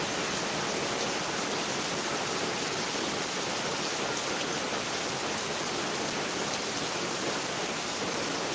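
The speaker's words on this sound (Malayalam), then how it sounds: "ഗംഭീര മഴയാണ്" Steady, dense rainfall pours down without a break, a loud continuous hiss with no voices.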